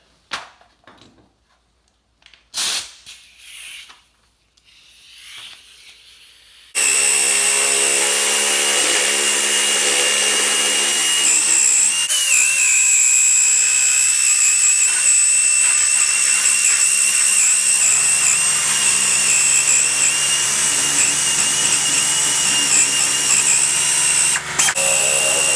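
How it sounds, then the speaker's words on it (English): Power shears cut sheet metal during rust repair on a Kubota RTV 1100. A few short, quiet knocks come first, then a loud, close, continuous motor whine runs unbroken to the end, with no talking. "let's see if we can get the shears going here"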